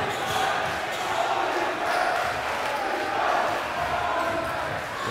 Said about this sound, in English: As that seems to wake up the MTA crowd there